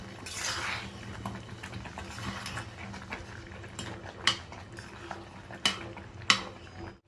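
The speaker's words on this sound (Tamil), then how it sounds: "நம்ம இப்போ நம்ம அப்படி ஒரு கிண்டி விட்டுருவோம்" Mango ginger rava upma stirred in a pan, with soft scraping and shuffling under a quiet cooking hiss, punctuated by a few sharp metallic clinks of the utensil against the pan.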